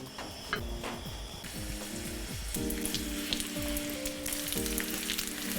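Korean rolls fry in grapeseed oil in a skillet, a close, steady sizzle with light crackles and some soft tapping, and no one speaking.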